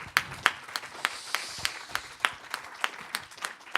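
Clapping at a conference comes as sharp, evenly spaced claps about three per second over a softer patter of scattered hands, fairly quiet and without voices.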